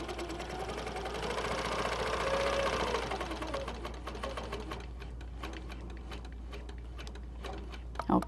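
A quilting sewing machine stitches along a right angle ruler with a fast, steady mechanical whir that slows and gives way to sparse ticks as the machine stops with the needle down.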